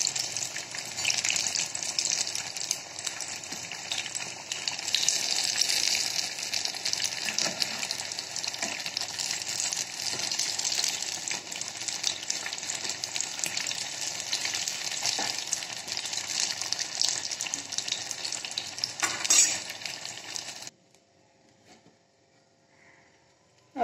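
Brain pakoras deep frying in hot oil, a steady, dense, close sizzle and bubble running unbroken for about twenty seconds before cutting to near silence.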